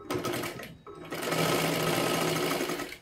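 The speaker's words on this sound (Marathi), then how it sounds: "त्याच्यावरतीच पुन्हा एकदा आपल्याला डबल शिलाई मारून घ्या" A sewing machine runs a double line of stitching along a katori blouse seam, a steady close whirring drone that stops briefly near the start before running on continuously.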